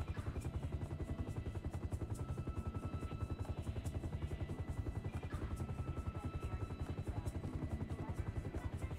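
Helicopter in GTA 5 thrumming steadily with a fast, even rotor chop throughout, a constant mid-level drone over a low engine hum.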